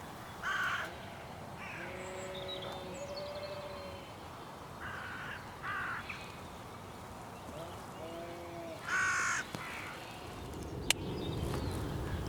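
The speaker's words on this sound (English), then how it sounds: "the crows really had a go at him" Crows caw in harsh repeated bursts while mobbing a buzzard outdoors, several loud calls spaced across the stretch over steady background hiss.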